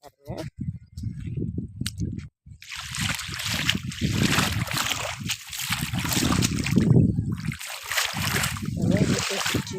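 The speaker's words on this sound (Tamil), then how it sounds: "வீட்டை சுற்றிலையும் தண்ணி தண்ணி சவுண்டு" Rainwater runs and splashes around a house after heavy rain, a steady nearby trickling and sloshing wash that continues under someone talking throughout.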